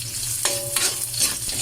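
Ginger, chili and garlic sizzle steadily in a hot pan as they are sautéed for a spicy crab dish in coconut milk, with a few stirring scrapes over the constant close frying hiss.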